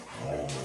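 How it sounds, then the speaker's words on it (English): A short, nearby vocalization from dogs at play, a whiny yip blending into a low growl-like tone, heard over a noisy background. "if you excuse my dogs playing"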